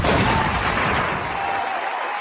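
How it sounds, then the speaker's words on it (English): A loud, sustained burst of cheering and applause from a crowd, fading slightly, with a whistle-like tone running through it; no single gunshot stands out. "Give it a hand clap and a gunshot."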